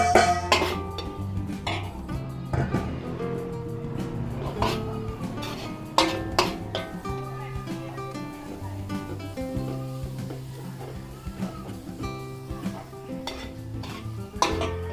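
Onion added to garlic in a hot pan, a spatula stirring with repeated scraping clatter over a low sizzle, a few louder knocks scattered through, with faint background sounds.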